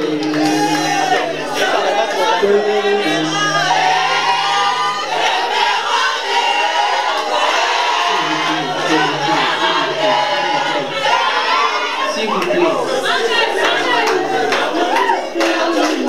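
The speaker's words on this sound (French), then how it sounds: "Applaudissez pour Blancowell." An audience applauds and cheers for the winner of an inter-university eloquence contest final, a steady crowd roar filling the hall while a voice speaks over it.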